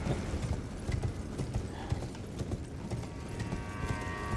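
Horse hooves clip-clop steadily in a video game, a continuous rhythmic clatter of footfalls set against a busy game backdrop with faint ambient sounds.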